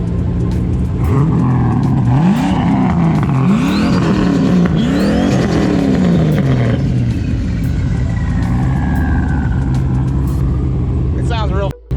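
A cheaply kitted turbocharged car with a rear-mounted turbo revs hard several times in quick succession, close and loud, over constant idle, with people talking nearby.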